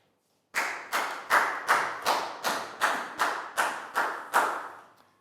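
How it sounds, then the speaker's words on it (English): A Year 4 classroom claps for a student named Nadia during a maths lesson, about ten loud, evenly spaced group claps in a steady rhythm, close by, with no talk. "High five and a big round of applause for Nadia"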